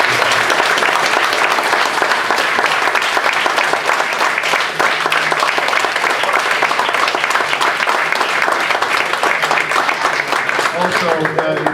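Loud, sustained applause from an audience at an all-candidate debate night fills the room steadily from start to finish, dense and continuous without letting up.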